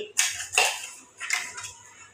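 Carrots tossed into a pan with a little ghee and stirred, giving a few bright scraping and clattering bursts of spoon against metal, close and moderately loud, with no talk.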